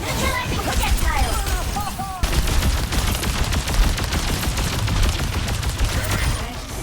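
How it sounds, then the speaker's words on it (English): Rapid electrified gunfire in Overwatch 2 while Mercy damage-boosts the player, a dense, loud continuous stream of crackling shots with a brief whistling effect near the start and someone talking over it. "When Mercy is damage boosting you, your gun sound changes completely to a more badass, electrified sound."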